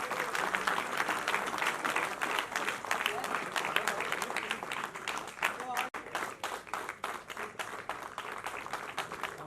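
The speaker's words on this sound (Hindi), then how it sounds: "तो जोरदार तालियां।" Dense, steady audience applause at a Hindi stage play about Bhagat Singh fills the whole stretch, with sharp clapping running loud and continuous throughout.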